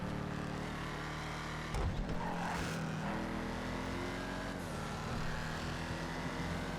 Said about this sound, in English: Scraping the wall doesn't do much for the car